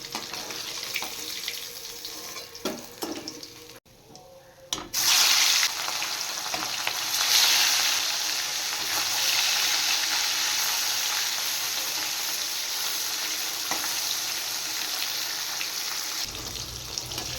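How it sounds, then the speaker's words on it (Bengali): Pieces of rohu fish fry in hot oil in a pan, giving a loud, steady crackling sizzle. It drops out briefly near the start, then comes back strong and runs without a break. "এবার আরও কিছু মাছ আছে, ওগুলো ভেজে নেব।"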